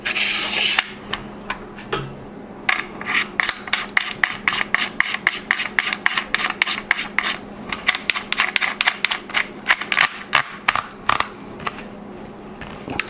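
Retaining nut being threaded and slid onto an Adler A110 shotgun, a rapid run of close, crisp metallic ratcheting clicks that rasp on steadily for several seconds with no talk.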